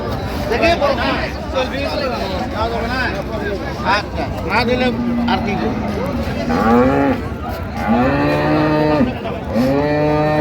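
Dairy cows and calves low and moo repeatedly at a busy cattle market in Raniganj, Dinajpur, several loud calls rising over a constant crowd babble and nearby talk.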